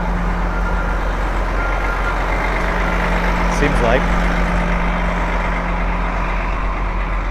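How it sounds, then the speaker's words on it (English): Loud tour buses rumbling past in Central Park, New York City, a heavy steady engine drone close by with a voice speaking briefly over it. "the buses are so loud. Tour buses, so tours are back."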